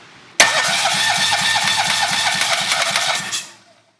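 A tiny rebuilt engine that had been seized catches suddenly and runs with a fast, steady chugging putter for about three seconds, loud and close, then dies away and falls silent.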